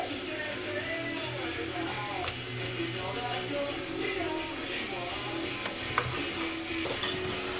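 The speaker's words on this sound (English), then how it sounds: "And again, give it a quick stir." Tomatoes frying in a karahi while being stirred, a steady close sizzle with scraping and a few sharp clinks of the utensil against the pan.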